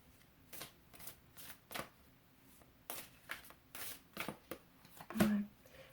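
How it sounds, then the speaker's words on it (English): A large deck of tarot cards is shuffled by hand in quick irregular bursts of riffling and slapping, close and fairly quiet, with one sharper flick near the end. "There's a lot of cards in this deck. I can't really shuffle it all that well."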